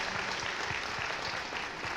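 Applause for a third-place speech contest winner: close, even clapping from a small group of people, with individual hand claps audible in a loose rhythm throughout.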